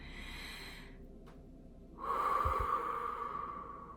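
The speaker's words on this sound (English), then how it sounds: "So just continue breathing in and out easily and effortlessly and continuously." Slow, deep breathing during a guided meditation: a long exhale through the nose and then a fuller, airy inhale, close and steady in a quiet room, with no talk.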